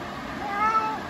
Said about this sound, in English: Cat, non-stop meowing mode.